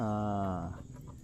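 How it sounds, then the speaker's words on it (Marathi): A kapi fish caught in traditional creek fishing gives a loud, rooster-like croak, a sustained rough call of about half a second fading into faint background noise. "कापीचा आवाज बघ कसला तो कॉक कॉक कॉक कोंबड्यासारखा लागतात"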